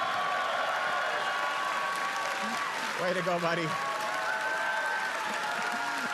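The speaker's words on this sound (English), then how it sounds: "Give them a big round of applause" A convention audience applauds an engaged couple at a conservative political plenary session; the clapping forms a broad wash while someone speaks over it at close range.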